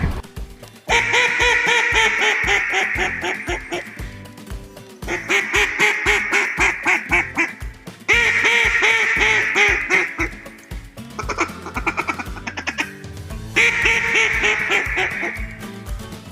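Beckman duck call imitating a hen mallard, loud repeated quacking sequences in several bursts with short pauses, close and clear, no talking; the quacks are made by a call, not a live bird.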